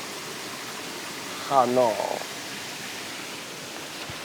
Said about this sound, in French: Que la petite cascade en bas